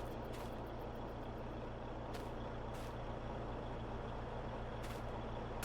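A Ford F-250 truck in Farming Simulator 22 idles with a steady low engine drone, joined by a few short hissing bursts at intervals.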